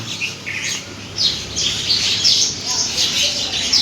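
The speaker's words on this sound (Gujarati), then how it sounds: "આપણે રોટલું નાખી દીધો ચકલો આવીને ખાવા માંડે" Sparrows chirp steadily and busily while pecking at tossed flatbread, a dense close chorus of small tweets continuing throughout.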